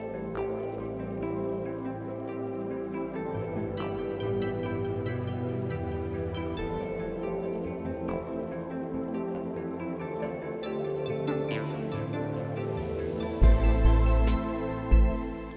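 Yamaha Genos arranger keyboard playing its Intro 2 style pattern, with layered synth and echo-treated wobbling tones over a soft rhythmic bed, building to louder low thumps near the end; no talking.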